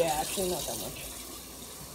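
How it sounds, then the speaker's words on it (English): Tap water running into a bowl for bathing a Northern alligator lizard, a steady close gushing and splashing that fades slightly, with a voice speaking over it. "I am filling up a bowl with water."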